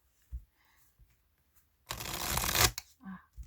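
Tarot cards are shuffled in one brisk, close riffle lasting under a second, following soft handling taps and quiet speech.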